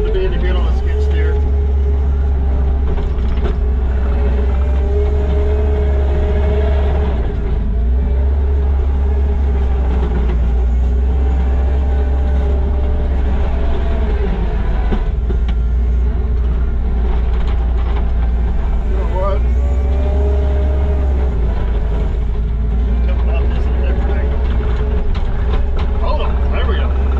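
A skid steer loader works dirt to build a pad for a pole barn, its engine droning steadily and loud for the whole stretch, with someone talking over the machine noise now and then.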